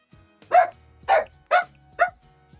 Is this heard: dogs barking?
yes